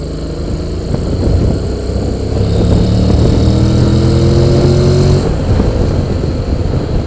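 A 2017 Honda X-ADV scooter accelerates hard to overtake, its engine note climbing steadily and loud for several seconds over steady road and wind rush, then easing off near the end.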